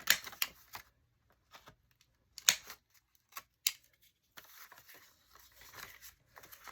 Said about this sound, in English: I'm just gonna grab my rounder.